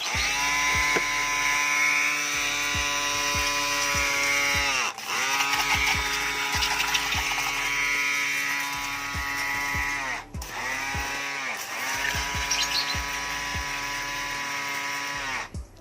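A 12-volt DC portable car washer runs with a whining electric pump and rhythmic pulsing under a hissing spray, close by, cutting out briefly twice before restarting.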